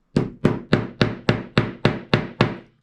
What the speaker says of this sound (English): I am just going to take my chunky little hammer